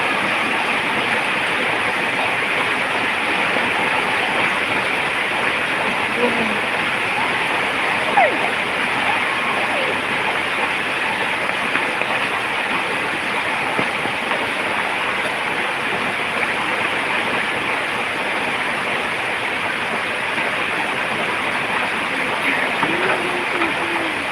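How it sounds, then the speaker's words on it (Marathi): Heavy outdoor rain during a Konkan monsoon, a dense continuous hiss and roar that stays steady for the whole stretch, with no clear talking. "पाऊस बघ तिथे पाऊस"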